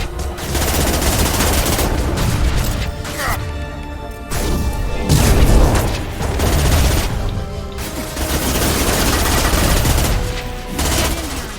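An SMG fires during combat in the video game Mass Effect 2, with loud, continuous rapid gunfire layered with crashes and impacts. Someone talks over the shooting.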